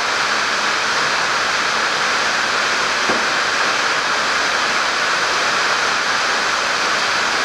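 Heavy rain drums on the metal roof of a car repair workshop, a loud, dense, unbroken roar that fills the whole stretch with no voices over it.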